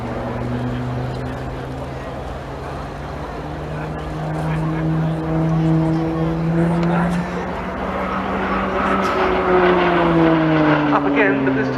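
Pilatus PC-9 turboprop performing aerobatic loops and rolls at the RIAT airshow, its propeller drone loud and steady with a shifting pitch as it climbs and pulls through, under continuous commentary.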